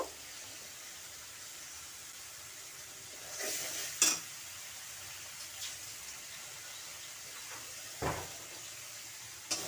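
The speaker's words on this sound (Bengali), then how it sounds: "মশলাটা ভালোভাবে কষিয়ে নেব।" Spice paste of ground cumin, coriander, chili powder, ginger and green chili frying in a pan for a pointed gourd curry, a quiet steady sizzle broken by a few brief stirring scrapes, with no talking.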